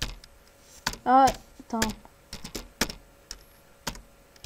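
Typing on a computer keyboard: quick irregular bursts of crisp key clicks, close and fairly loud, with a short spoken remark partway through.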